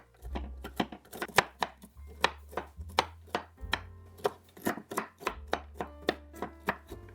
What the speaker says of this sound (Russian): И также средними кусочками порублю орехи.